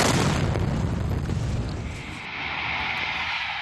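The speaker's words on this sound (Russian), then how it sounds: "произошел мощный взрыв" A loud, rumbling blast of broadband noise from an explosion during a fire at a petrol station in Grozny fills the opening seconds, then eases into a lingering roar and hiss.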